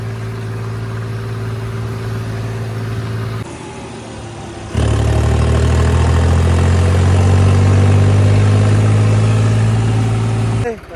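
A New Holland 3630 4x4 tractor engine drones steadily, briefly drops, then returns louder with a deeper, rising hum as it works harder, close and continuous.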